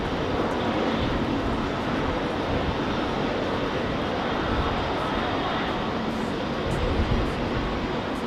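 A heavy freighter aircraft lands at Heathrow, its engines producing a loud, continuous broadband roar that holds steady throughout with no pause.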